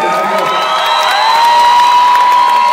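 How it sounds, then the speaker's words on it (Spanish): A crowd at a hip hop community event applauds and cheers the women on stage, with loud clapping, shouts and shrill whistles in a continuous burst. "un aplauso para las mujeres que hacen parte del día de hoy de este escenario"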